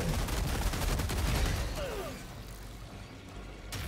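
Dense, continuous gunfire in the co-op shooter Helldivers 2: rapid overlapping shots and blasts, loud and close, thinning slightly toward the end.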